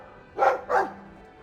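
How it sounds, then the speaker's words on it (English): Two quick, close barks from a dog in the video game Dragon Age II stand out clearly over quiet background ambience. "I like the doggy."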